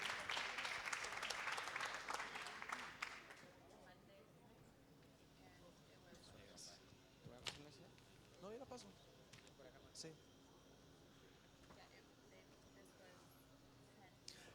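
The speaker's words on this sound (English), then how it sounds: "Big applause for Latam Review." Applause from an audience at a startup pitch event greets the Latam Review team, loud and dense for the first three seconds, then fading into quieter room noise with scattered voices and small sounds.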